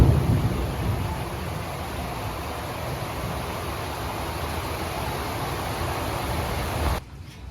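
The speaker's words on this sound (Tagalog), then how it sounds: "malakas ang ulan!" Heavy rain pours in Manila in a dense, steady roar close by, with no voices, then cuts off abruptly near the end.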